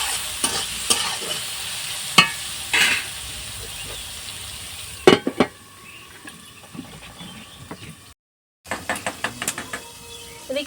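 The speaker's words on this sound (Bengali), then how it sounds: "দিয়ে বেগুনটা একটু ভালো করে ভেজে নেব।" Eggplant frying in a pan with salt and turmeric for a village-style duck egg recipe, with sizzling broken by sharp stirring knocks and scrapes that come in clusters, with a brief silent gap near the end.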